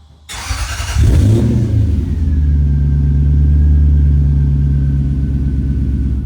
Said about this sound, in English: So I can start this up in my neighborhood, and my neighbors don't get upset, even under cold start